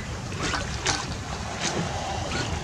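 Wind gusts buffet the microphone over a steady rush of water and hull noise on a sailboat at sea, with bursts of breathy noise recurring every second or so.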